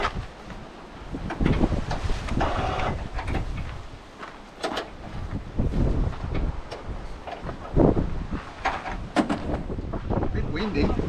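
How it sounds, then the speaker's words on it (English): Gusty wind buffeting the microphone outdoors in South Australia, rumbling and rising and falling in strong bursts, with occasional knocks and a voice in between. "A bit windy."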